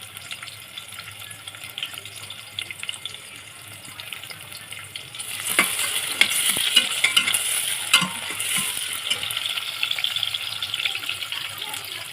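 Bay leaves and chopped onion hit hot oil in a pan for a mutton curry, a steady sizzle that swells louder midway, with scraping stir clatter over the frying and no voices.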